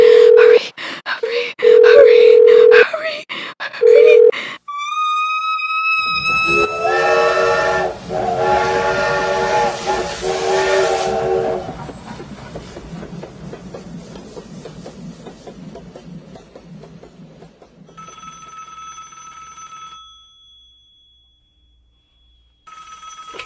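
A telephone rings with a bright electronic trill after a brief exchange of voices, followed by a steady tone and quieter hum.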